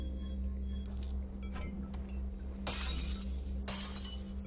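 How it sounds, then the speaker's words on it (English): Glass bottles smashing in the VR game Half-Life: Alyx: two sharp, bright shatters about a second apart over a steady low game hum, with no talk. "Bottle smashing simulator."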